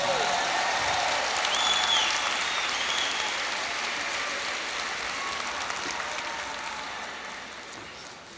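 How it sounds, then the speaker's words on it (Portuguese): A large church congregation claps in a dense, sustained wave of applause that slowly fades over several seconds. "Dê para Ele uma forte salva de palmas."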